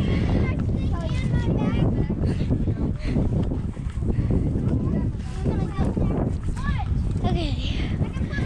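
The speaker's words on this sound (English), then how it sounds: "The wind's picking up a lot." Strong wind buffets the microphone beside a small cave on the Ouachita hiking trail, making a continuous loud rumbling roar with gusty swells throughout and faint voices underneath.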